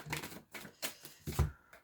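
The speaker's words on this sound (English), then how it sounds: "I'm going to give it 4 more shuffles." Quiet rapid riffling of playing cards being shuffled, a few short bursts of papery flutter with brief pauses between them.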